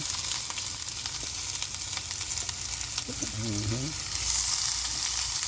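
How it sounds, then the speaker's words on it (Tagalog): Garlic and onion dropped into hot oil, a steady close sizzle and crackle of sautéing, with a brief voice sound partway through. "Maglalagay na tayo ng ating panggisa. Ang ating bawang sibuyas."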